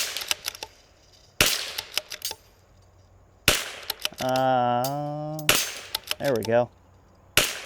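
A CZ 457 .22LR rifle fires several sharp, loud cracks spaced a second or two apart, with mechanical clicks between shots and someone speaking briefly.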